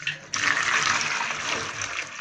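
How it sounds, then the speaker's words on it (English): Water pours loudly and steadily over fruits and vegetables in a container, a continuous close splashing rush that starts abruptly. "Then pour some water in it"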